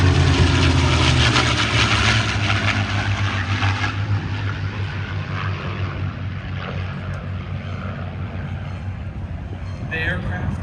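World War II aircraft passing at an airshow, a loud propeller engine drone that is strongest at first and slowly fades into a steady distant rumble, with a voice talking over it.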